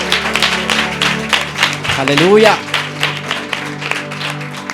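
A church congregation claps in dense, steady applause throughout, with a voice calling out over the clapping.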